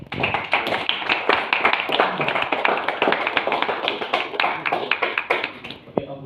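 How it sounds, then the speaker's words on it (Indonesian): Classroom applause for a discussion group, many hands clapping steadily and fairly close for about six seconds before stopping abruptly, with faint voices underneath. "Oke, kita kasih aplaus untuk kelompok."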